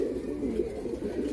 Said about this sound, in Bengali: আর এইগুলা হলো ভিউয়ার্স মাদি কবুতর